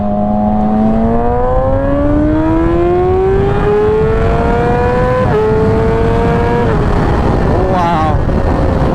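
A 2017 Yamaha R6 sport motorcycle engine climbs steadily in pitch through several gears toward 16,000 rpm, a loud close rising whine with sharp shift breaks, heavy wind roar underneath.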